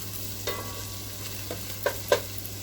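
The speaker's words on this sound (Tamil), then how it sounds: "இந்த செலரி கொஞ்சம் பொன்னிறமாக உள்ளி வரும் வரைக்கும் நாங்கள் அதை கொஞ்சம் வறுக்கணும்" Celery stir-fries in a pan for vegetable soup, a quiet continuous sizzle with a few sharp scraping stirs, two close together near the end, over a faint steady hum; no talking.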